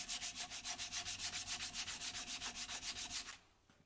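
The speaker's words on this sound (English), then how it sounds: "It's obviously easier to sand them now than it is tomorrow when it's glued together." Rhythmic back-and-forth sanding of scrap timber box pieces, steady rasping strokes about six per second, close and even, stopping abruptly near the end.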